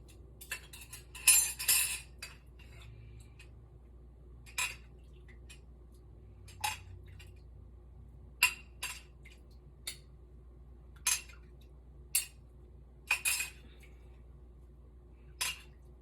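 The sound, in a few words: tossing cornbread stuffing with utensils in a dish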